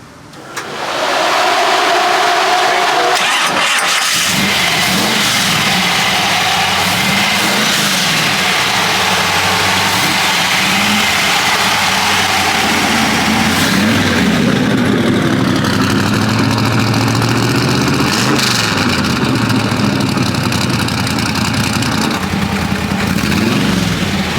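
A hot rod's engine cranks and fires at a car show on the road in Indianapolis, then settles into a loud, steady, lumpy idle that runs on close by with a few throttle blips.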